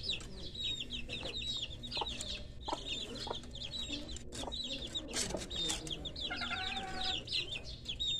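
Newly hatched Rhode Island Red and Australorp chicks peeping in a constant high chorus, with a hen clucking low and close among them.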